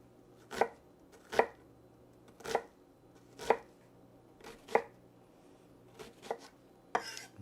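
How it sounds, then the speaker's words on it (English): A knife dicing a halved onion on a cutting board gives about eight distinct, evenly spaced chops, close and clear with quiet gaps between, for a homemade Taco Bell Mexican Pizza. "First, we're going to dice up the onion."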